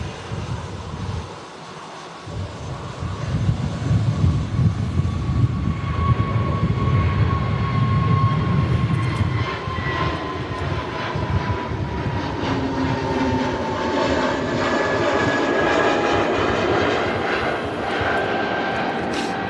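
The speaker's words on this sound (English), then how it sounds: "Here goes the Sky Express A320neo heading back to Athens this time" A Sky Express Airbus A320neo jet takes off at an airport, its engines rising into a loud sustained roar that builds and then slowly fades as the aircraft climbs away.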